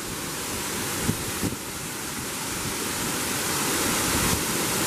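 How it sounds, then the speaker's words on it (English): A waterfall on the Glen Onoko Falls trail roars steadily nearby, a dense continuous rush of falling water with slight wind buffeting the microphone. "Here's the next waterfall."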